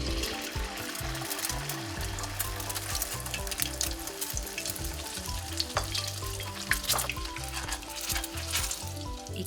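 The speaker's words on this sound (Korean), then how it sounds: "튀긴다는 생각으로 기름을 아주 넉넉히 붓고" Eggs frying in a generous pool of oil for a Korean egg rice bowl, a dense steady crackling sizzle with faint stirring and occasional sharper pops, close and continuous, no talking.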